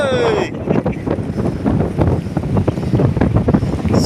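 Strong wind buffets a small fishing boat casting nets at sea, roaring loudly and gusting against the microphone, with water sloshing underneath and a brief voice at the start.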